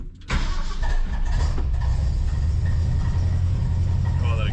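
A 1978 Ford F250 4x4 pickup with a bad exhaust cranks and fires up, then settles into a loud, rough, rumbling run close by.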